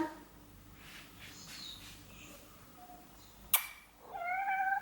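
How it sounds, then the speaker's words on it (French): A cat meows plaintively, a drawn-out tonal cry near the end after a soft click, with faint background noise before it. "Un petit chat."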